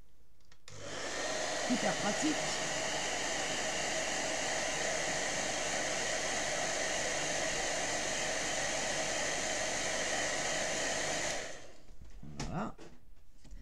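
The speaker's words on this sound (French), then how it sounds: "j'ai toujours sous le coude mon sèche-cheveux" A hair dryer switches on and blows with a steady, loud whooshing hum for about ten seconds, drying ink on a scrapbook page, then cuts off, followed by a brief spoken remark.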